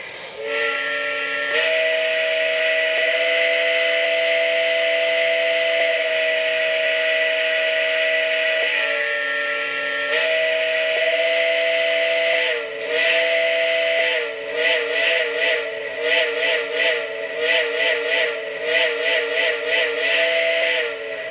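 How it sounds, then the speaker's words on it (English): Steam whistle sound effect from a Lionel Legacy Canadian Pacific 4-6-0 Ten Wheeler model locomotive: a loud, sustained multi-tone chime held for several seconds, then a run of short rhythmic toots, heard alone. "Here is the whistle."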